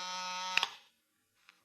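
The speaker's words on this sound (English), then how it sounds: "It was time for the buzzer on my desk to sound out the call" A desk buzzer sounds in an old radio drama: one loud, harsh electric buzz holding steady for almost a second before cutting off, leaving near silence with a faint click afterward.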